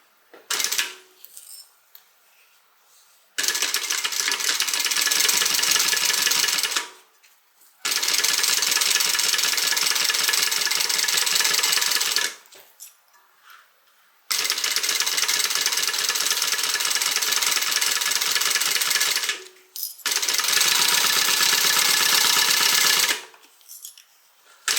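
A sewing machine stitches a bag gusset in four long bursts of rapid, loud mechanical whirring, with short quiet pauses and faint handling noises between runs.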